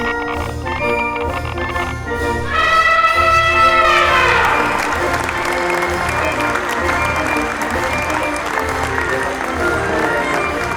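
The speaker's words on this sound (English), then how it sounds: "just general crowd noise" A crowd applauds and cheers in a dense, steady wash of clapping. Sustained musical tones ring over the opening seconds before the applause carries on alone.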